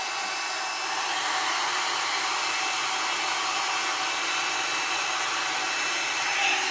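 A L'ange LeVolume 2 in 1 brush dryer blows on hair with a steady, close, airy whoosh and motor whine that holds at an even level from start to finish, with no one talking.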